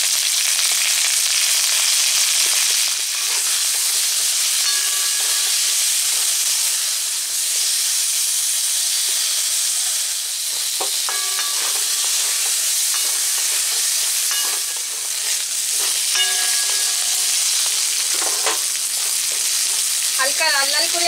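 Vegetables and drumsticks fry in hot oil in a wok, giving a loud, steady, dense sizzle and hiss that runs throughout, with occasional soft stirring clinks and no talking.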